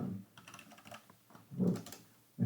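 Fingers type on a computer keyboard during a .NET programming session, a quick irregular run of soft clicks with a faint low murmur around them.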